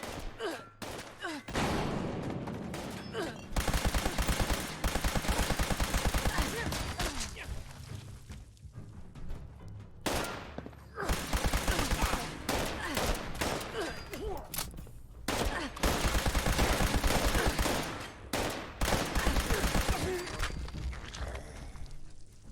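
Fireworks go off in the video game Fallout 76: dense bursts of crackling, popping explosions that swell loud, stop briefly around two and ten seconds in, then resume in a steady barrage.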